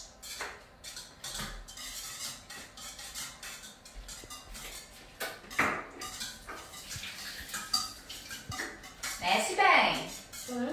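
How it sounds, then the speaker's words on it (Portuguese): Two eggs are beaten in a bowl for a simple healthy banana recipe, giving fast, busy clinking and scraping of utensil against dish. Children and adults talk over it almost throughout. "agora vamos passar pra cá os dois ovos e vamos bater um pouquinho"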